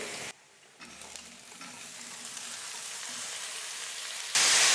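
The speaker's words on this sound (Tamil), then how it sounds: "வேக வச்சு எடுத்து வச்சுருக்கிற பீன்ஸை சேர்த்துக்கிறேன்." Cooked beans tipped into a pan of softened onion and curry leaves for a Tamil beans poriyal, with steady close sizzling and stirring noise that surges louder near the end; no talking.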